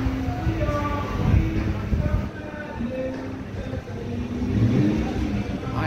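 A Lingenfelter 60th anniversary Cunningham edition C8 Corvette with a Corsa exhaust revs loudly and steadily from close by, its engine note rising and falling and a voice talking over it.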